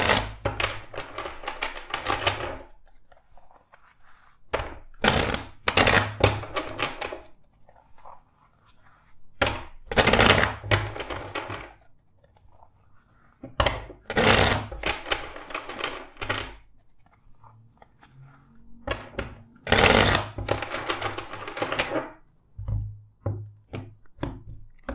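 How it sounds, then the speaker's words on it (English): Tarot cards are shuffled in several bursts of rapid riffling and flicking, separated by short quiet pauses, close by and fairly loud. "Let's shuffle the deck four times for you."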